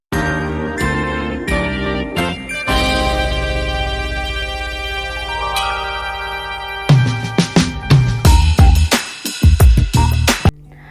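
A jingling notification chime for a subscribe bell button rings out in a layered musical sting, a run of bright struck notes, then a sustained swell and a busy burst of sparkly hits at the end, loud and alone.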